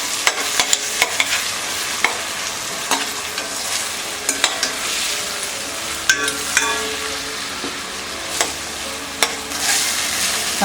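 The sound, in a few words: stirring and frying onions and tomatoes in a pan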